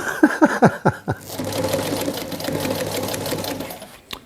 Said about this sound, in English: So I'm just busy stitching some seams on these panels